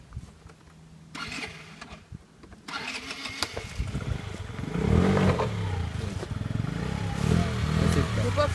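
A four-stroke scooter engine is started after a few cranking attempts, then settles into a steady mid-pitched idle close by, with a brief word spoken over it.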